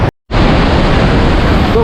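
The huge Iguaçu Falls waterfall in Brazil roars as a loud, dense, continuous wash of rushing water and spray. A brief dropout comes near the start, and wind buffets the microphone.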